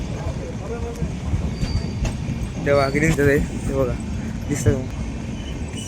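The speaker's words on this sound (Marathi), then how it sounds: "चालली आपली ट्रेन" A train rolls past at a railway station, a steady rumble with faint wheel clatter throughout, while a person talks over it nearby.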